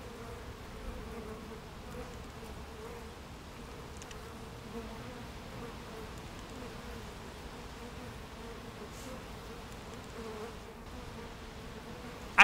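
A steady, close hum of many honey bees buzzing continuously during a hive inspection, with a few individual bees droning louder as they pass near.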